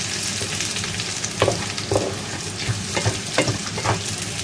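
Dried chillies frying in hot oil for black pepper chicken, a dense, close crackling sizzle throughout, with light stirring scrapes breaking through at intervals.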